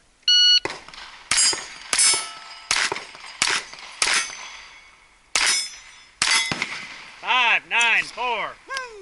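Gunshots at a Steel Challenge shooting match, a string of sharp cracks each followed by the ringing clang of struck steel targets, close and loud, ending with a series of timer beeps.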